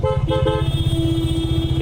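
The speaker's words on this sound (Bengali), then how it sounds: "এও দেখি হর্ন মারে।" A vehicle horn honks in street traffic during a motorcycle ride near Kolkata Maidan, with short toots followed by a longer sustained blare over the close, throbbing rhythm of the motorcycle engine.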